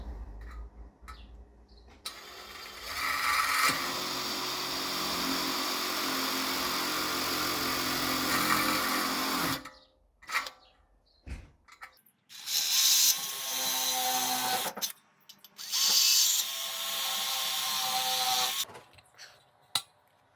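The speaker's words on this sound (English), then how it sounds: "first I'm going to drill some pilot holes with this" A power drill boring pilot holes in a fence post whines in long sustained bursts, then several shorter on-off runs with brief pauses between, loud and close.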